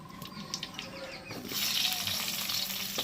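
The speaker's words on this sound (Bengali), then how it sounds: "পটলটাকেও ভেজে নেব" Pointed gourd (potol) frying in oil in a pan: a quiet crackle and light tapping at first, then a louder, steady close sizzle swells in halfway through and holds, with no talk.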